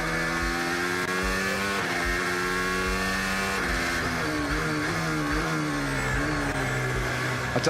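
A race car engine revs hard and climbs in pitch, dropping briefly at each of several quick upshifts, loud and close throughout.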